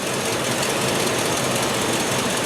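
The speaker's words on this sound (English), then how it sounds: "The engine is idling right now, as you can probably hear, and it is idling a little shaky." A car engine with a misfire idles steadily up close, a dense low rumble with a slightly uneven, shaky pulse running through it, no voices.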